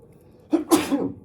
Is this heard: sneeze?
yes